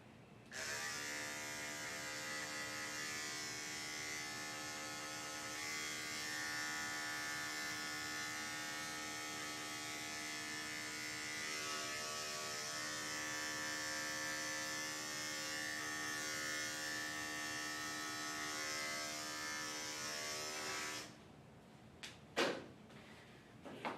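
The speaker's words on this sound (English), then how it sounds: "Tin blade is the safest blade to shave out a mat." Electric clippers fitted with a blade hum steadily and close up while shaving matted fur off a corgi, a continuous buzz that cuts off near the end, followed by a few short clicks and knocks.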